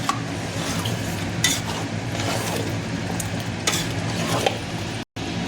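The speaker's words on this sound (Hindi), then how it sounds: "अब इसको अच्छे से चला देंगे" Yogurt is stirred into chicken biryani masala in a pot, giving a continuous wet sizzle and scraping with occasional clinks of a spoon against the metal pot.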